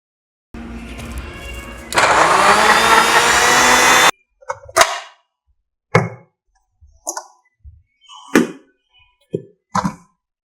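An electric mixer blends a creatine supplement drink in one loud, steady whirring burst of about two seconds, followed by a series of separate knocks and clunks as items are set down.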